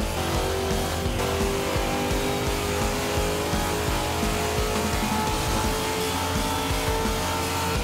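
A 2015 Corvette Z06 powers along in Forza Horizon 2, its engine droning steadily with layered harmonic tones at constant loudness for the whole stretch, no voices.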